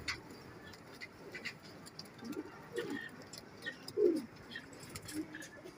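A pair of Sialkoti pigeons gives soft, low cooing calls close by, a few scattered murmuring coos over quiet background ambience, with faint chirps in between.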